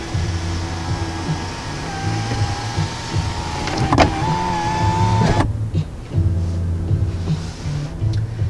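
The rear moonroof sunshade of a 2019 Buick Enclave Avenir runs on its electric motor, a steady close whir that cuts out briefly partway through and then resumes, with no talk.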